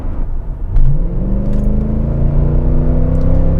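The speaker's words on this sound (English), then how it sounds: "Just leave it in the automatic mode and just floor it." A 2008 Mercedes E63 AMG accelerates hard at full throttle in automatic mode, its loud engine note rising steadily in pitch after a brief lull, then holding a strong sustained roar with no talking.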